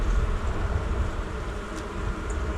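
Dense, low buzzing of many honeybees around a hive on a warm day, a steady droning hum with no pauses.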